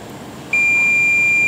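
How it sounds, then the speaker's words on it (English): A multimeter gives a steady continuity beep while testing a repaired Mercedes-Benz key fob coil, a clean, sustained high tone that starts abruptly after a quiet moment and holds loud and unbroken to the end. "So let's go ahead and check for continuity once again."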